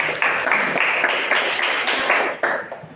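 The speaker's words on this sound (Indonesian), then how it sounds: "kita beri tepuk tangan buat Feby" Classroom audience of students clapping for a classmate after an answer, a short burst of many hands clapping together, fairly close, fading toward the end.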